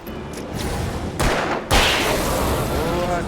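Gunfire rings out in Alan Wake Remastered, with two sharp, loud shots about half a second apart cutting through a dense background of game ambience and lingering reverberant tails.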